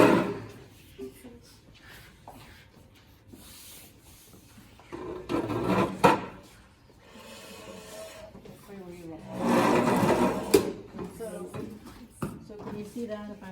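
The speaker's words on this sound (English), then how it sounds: "How about we pull a chair over" A chair is pulled across the floor, giving a few rough scraping and rubbing bursts with a longer drag near the end, while people talk nearby.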